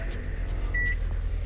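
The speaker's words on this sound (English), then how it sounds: "you're gonna see microwave is working right there" A small microwave oven running inside a car gives off a steady low hum with a constant droning tone, and a brief beep partway through.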